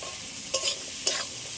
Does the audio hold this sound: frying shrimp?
yes